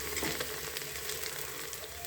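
Mint and coriander leaves fry in ghee for ghee rice, a close, continuous sizzle and crackle with light spattering throughout.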